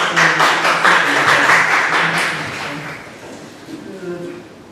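Audience applause welcomes a speaker at a forum session on regional sustainability and transport infrastructure, a broad wash of clapping that fades after a few seconds while a voice talks over it and continues.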